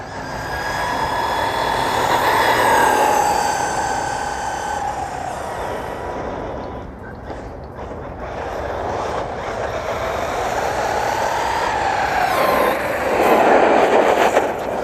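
A Team Corally Kagama RC car races past at high speed, a loud whining motor tone rising and falling in pitch as it approaches, passes and speeds away, then comes back for another pass near the end, with no talk over it.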